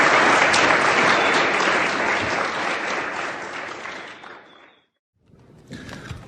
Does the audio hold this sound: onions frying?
no